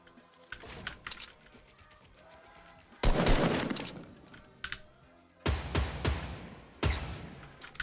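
Bursts of Fortnite gunfire come in clustered rapid volleys between quieter stretches, loud and close against a faint game background.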